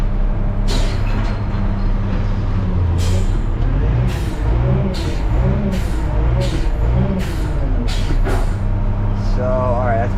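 A front-load garbage truck dumps a heavy dumpster with a loud, continuous diesel engine roar and hydraulic whine, sharp air-brake hisses bursting at intervals, and rhythmic mechanical clanks throughout.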